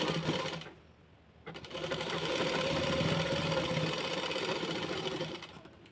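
A sewing machine stitching a blouse runs in a steady, close mechanical whir, pausing briefly near the start before resuming for several continuous seconds and then easing off.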